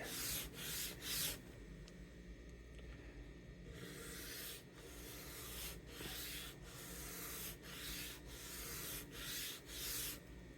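Hand sanding of a wooden ESP LTD EXP-200 guitar: rhythmic scratchy rubbing strokes in bursts, close and fairly quiet, with a pause before the strokes resume at a steady pace.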